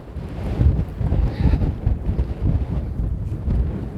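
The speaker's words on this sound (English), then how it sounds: "We'll take it in these windy conditions." Strong gusting wind on a golf course buffets the microphone with a loud low rumble that swells and dips throughout, and no one speaks.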